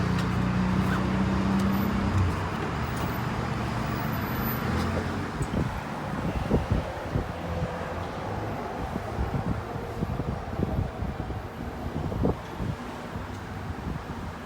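A 1946 Willys MB2A jeep drives along the road, its engine a steady low drone beneath heavy wind buffeting on the microphone, fairly quiet overall with a few brief thumps from the ride.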